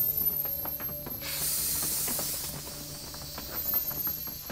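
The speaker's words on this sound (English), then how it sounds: "First thing we're going to do is deflate the air sponson." Air hisses out of the air sponson of a Long Haul Mark II folding kayak as it is deflated, a steady, fairly quiet rush lasting about a second, mixed with faint clicks and handling noise.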